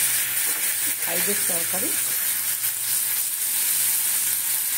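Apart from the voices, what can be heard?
water poured into a hot pan with boiled potato curry, sizzling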